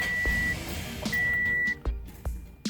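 A 2006 Pontiac Vibe sounds a steady electronic chime as the ignition is switched on, a high tone repeating in long pulses over rumbling background noise and a few clunks.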